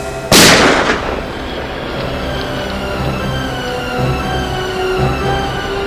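A single loud gunshot cracks out near the start, followed by a ringing, droning tail with no further shots.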